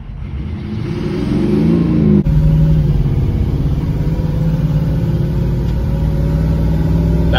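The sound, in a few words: car engine revving at half throttle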